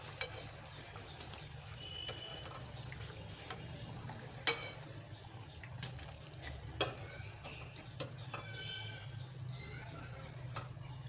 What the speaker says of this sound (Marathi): आता लो फ्लेमवरती तळून घ्यायचे मस्त तळलेले आहेत